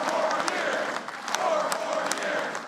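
A supportive union crowd applauding the President a few blocks from the White House, a continuous wash of clapping and crowd noise with scattered louder claps, under a voice.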